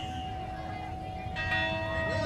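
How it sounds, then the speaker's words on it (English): A bronze bell cast for Ohio's 2003 Bicentennial rings at a Fourth of July parade in Medina, Ohio, a sustained clear tone that swells toward the end over steady crowd and street noise, with people talking nearby. "One of 90 bronze bells that were cast as part of Ohio's 2003 Bicentennial."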